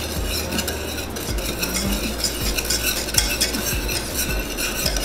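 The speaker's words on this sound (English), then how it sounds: "Now I'm going to mix it all together." Chocolate gravy is stirred in a pot, a spoon scraping and clinking against the sides in a quick, continuous rhythm over a soft bubbling sizzle, with no voices.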